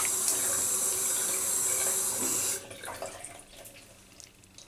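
Tap water runs steadily into a sink while wetting the face for a shave, a close, loud broadband hiss that cuts off abruptly partway through, leaving a few faint drips and small splashes.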